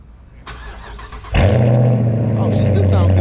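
A Chrysler 300 starts on a hot day: a quiet, rumbling lead-in, then the engine cranks and catches with a sudden loud surge and settles into a strong, steady idle.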